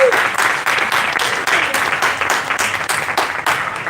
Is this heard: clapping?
yes